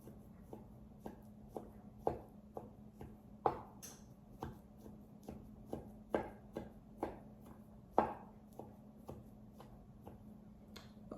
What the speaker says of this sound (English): You want it diced small as you can get it